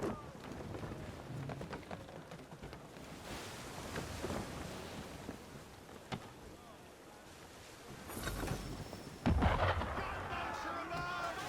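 Cannon fire from a ship at sea in Assassin's Creed 3, heavy booms rising over wind, waves and water noise, with a loud blast near the end and voices talking underneath.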